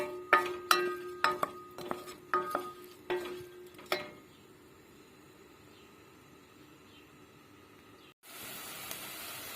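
Utensil clinks and stirring scrapes against a pan as chopped onion sautés in olive oil over a soft, steady sizzle, then the frying hiss grows louder near the end.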